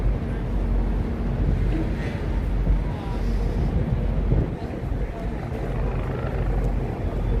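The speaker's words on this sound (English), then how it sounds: "Where the helicopters take off." Helicopters lifting off from a heliport beside the water in New York City make a steady, loud, low rumbling drone, mixed with gusty wind noise throughout.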